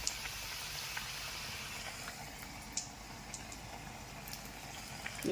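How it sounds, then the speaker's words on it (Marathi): Batata vada frying in hot oil in a kadhai, giving a steady, faint bubbling sizzle with occasional small pops throughout. "आता आपण हे वडे सोडून घेणार आहोत तेलामध्ये. तेल गरम आहे."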